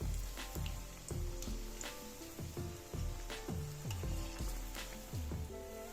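Dal vada lentil fritters frying in hot oil crackle and sizzle steadily up close, with repeated scraping and stirring strokes from a spoon in the pan giving a rough rhythmic pattern; no talking.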